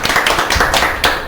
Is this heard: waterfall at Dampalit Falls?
no